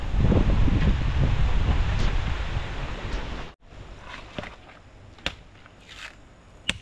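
Gusty wind blows outdoors in a coconut grove, a loud rushing buffet for the first few seconds, then a calmer stretch with scattered rustles and brief gusts.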